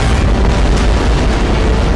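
An antimatter charge explodes aboard a ship in Halo: Combat Evolved, a loud, sustained, rumbling blast that fills the whole moment without letup.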